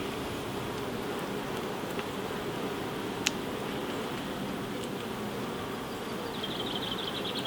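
Honey bees swarm around a beehive super, making a steady, dense, even buzzing hum that carries on without a break.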